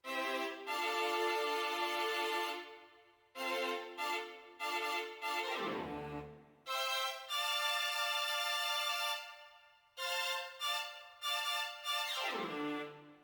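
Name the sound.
string section from a beat sample pack, played alone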